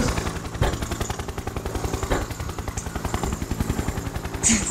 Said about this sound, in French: Il est bizarre cet hélicoptère